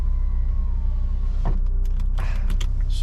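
The electric roof mechanism of a Honda S2000 Phase 2 whirs briefly as the roof closes, followed by a few soft clicks and clunks as it settles into place.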